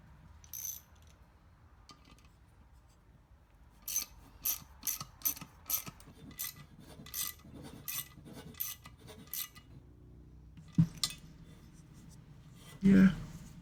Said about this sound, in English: you just run that bolt down in there, and it'll cut a few threads